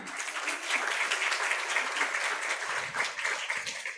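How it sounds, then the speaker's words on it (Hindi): Steady, dense applause from the audience for the cast of a staged Jain Laghu Ramayan play, a continuous wash of many clapping hands holding at an even loudness throughout. "जोरदार तालियां"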